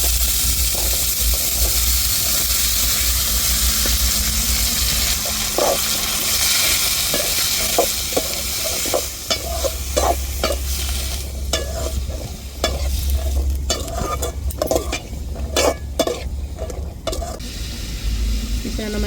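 Carrots sizzle steadily in a hot frying pan with curry leaves, while a spoon stirs and scrapes in irregular bursts close by, steam hissing underneath throughout.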